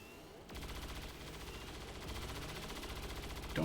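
Rapid sustained automatic gunfire rattles continuously in the turn-based tactics game XCOM 2 Long War of the Chosen, starting abruptly and holding a steady fast rhythm at moderate volume.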